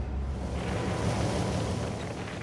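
Large Arctic Ocean waves far north of the Arctic Circle, heard as a steady, dense roar of surf and wind with no clear breaks, loud and continuous throughout.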